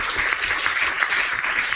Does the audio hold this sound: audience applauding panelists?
yes